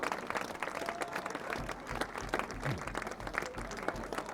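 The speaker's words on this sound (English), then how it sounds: "good round of applause from the Millis fans here" Football fans from Millis applaud from the stands at a varsity game, a steady patter of distant clapping with a low rumble of crowd noise underneath.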